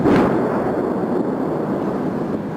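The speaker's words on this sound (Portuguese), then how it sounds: "As explosões acordaram a pequena vila no norte da Crimeia." Explosions at a Russian military ammunition depot in northern Crimea, heard as a continuous loud, heavy rumble with a strong boom at the start and sustained low roar throughout, no voices.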